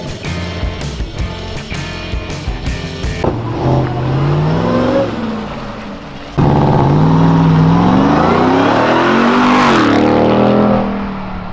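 A 2021 Ram TRX pickup engine roars up to full throttle with brakes applied, loud and close, its pitch climbing and falling in long sweeps.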